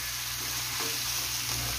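Mushrooms with a spoonful of turmeric fry in a hot pan, giving a steady, close sizzle with light stirring scrapes and no voices.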